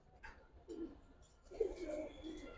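Giribaz pigeons coo softly at close range in two short, throaty phrases.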